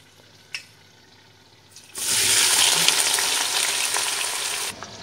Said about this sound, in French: Et là je laisse frire